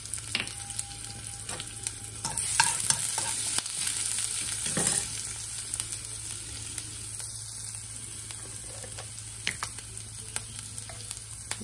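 Cumin, chopped garlic, a dried chilli and curry leaves frying in oil for a mango coconut pickle tempering, a soft steady sizzle with occasional stirring clicks and scrapes, no talk.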